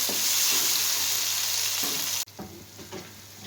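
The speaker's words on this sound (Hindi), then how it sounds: "इसको भी हम बहुत ही अच्छी तरह इसमें फ्राई कर लेंगे।" Crushed garlic and green chili fry loudly in a pan for a village-style potato and carrot mixed vegetable dish, a dense steady sizzle that abruptly drops to a quieter crackle partway through, with occasional stirring scrapes.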